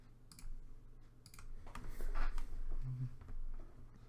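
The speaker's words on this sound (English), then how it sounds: "I don't think you can see my typing." Typing on a computer keyboard comes through as faint, scattered key clicks in irregular bursts over a low background hum, fairly quiet and with no voice.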